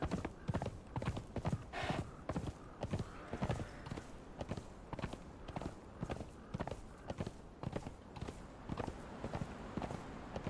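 Horse hooves clip-clop steadily in the video game Conan Exiles, an even, rhythmic trot of sharp knocks close by that runs the whole time.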